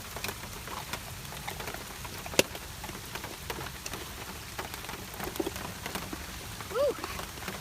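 Rain pours in a constant close patter with sharper individual drops hitting nearby, while a short vocal sound rises briefly near the end.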